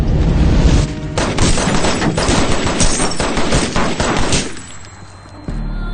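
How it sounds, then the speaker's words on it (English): Rapid volley of loud gunshots in a tense film shooting scene where a white police officer fires on a young Black man, dense bursts of fire lasting several seconds before tapering off into quieter rumbling. "the white cop shot him dead"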